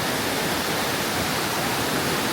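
The wide waterfall at Jiuzhaigou, heard from a boardwalk, roars as a constant, dense broadband rush with no pauses or voices.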